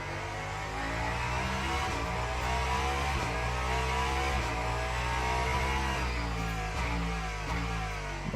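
A hypercar on cold tires in Le Mans Ultimate drones steadily, its engine note rising and falling through gear changes with brief dips between shifts, loud and continuous with no talk.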